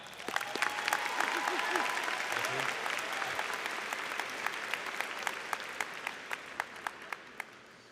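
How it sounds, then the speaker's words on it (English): An audience at a high school graduation ceremony applauds the school board president, steady crowd clapping with sharp individual claps standing out more distinctly as the applause thins. "give me a thunderous round of applause for board president, Mr. Brett Guido"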